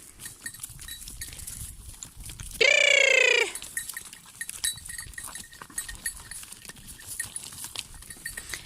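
A single loud goat or sheep bleat rings out for about a second amid quiet outdoor rustling and faint scattered noises.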